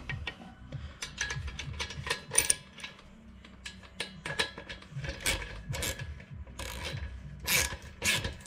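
A 13 mm wrench ratchets on a Yamaha 125 DTR motorcycle, giving repeated clicking bursts and metallic clatter close by, with scattered rattling and handling noises in between.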